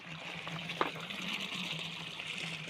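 A steady rush of water gushes continuously from a pipe on a farm, fairly faint, with a low hum underneath and one brief knock partway through.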